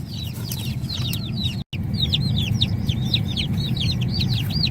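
Many high, thin peeping calls overlap continuously, a busy chorus of young chicks, including Barred Rocks, over a low rumbling background.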